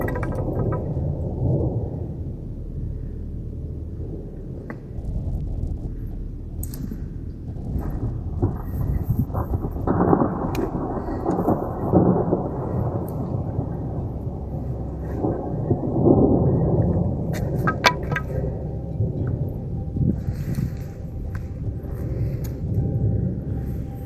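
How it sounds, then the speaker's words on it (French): An approaching thunderstorm rumbles low and continuously near a steep mountain ridge, with heavy rolling swells and brief crackling bursts, loud and close, with no voices. "L'orage se rapproche"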